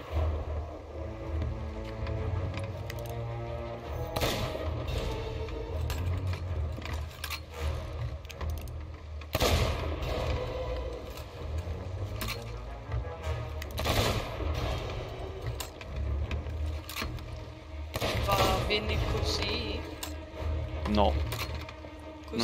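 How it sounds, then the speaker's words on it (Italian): Ship cannons firing in the pirate game Sea of Thieves, a series of heavy booms and rattling mechanical bursts spread across the stretch, mixed with game noise and people talking. "Ci arrivo coi cannoni."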